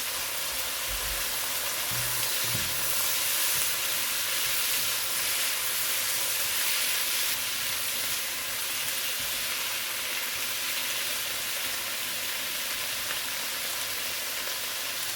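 A pot of water at a steady rolling boil before quinoa is added, with continuous hissing and bubbling that stays even throughout, close by and with no voices.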